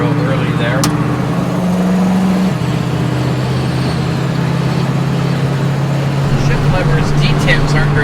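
A 1968 Mustang California Special with an overdrive transmission cruising onto the freeway, its engine droning steadily with a low hum and shifting pitch inside the car while a person talks.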